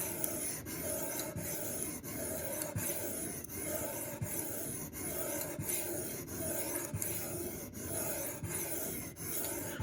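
A knife blade is drawn across the stone of a budget sharpening system in steady, rhythmic rasping strokes, close and repeated about once a second with no talking.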